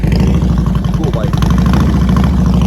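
A motorcycle idles nearby at the Sturgis rally, a steady low throbbing rumble with a voice speaking over it.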